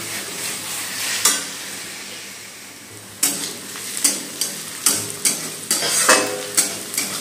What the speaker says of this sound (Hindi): प्याज भून रहे हैं अभी दोस्तों।